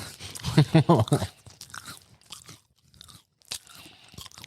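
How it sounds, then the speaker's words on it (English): Crunchy chewing of dry food right up against a microphone: repeated wet crunches and bites, loud and close, with a brief voice near the start. "You need to chew louder. People need to hear it."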